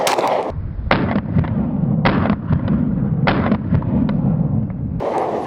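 Six sharp gunshots from a Reactor G43X pistol firing 124 grain rounds at a range, loud and spaced roughly a second apart, each with a short ringing tail over steady background rumble.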